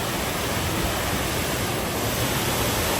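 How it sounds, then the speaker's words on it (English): Cooper Creek Falls, a waterfall at Disney's Wilderness Lodge resort, pours with a steady, loud, broadband rush of falling water, close by and continuous, with no voices. "Cooper Creek Falls is amazing."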